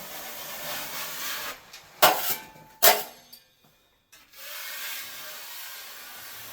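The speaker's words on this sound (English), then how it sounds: "take my knife here, about 1 inch off that bottom" A knife scores a drywall sheet about an inch from the bottom edge, making two short, sharp scraping strokes close by, followed by quiet room tone.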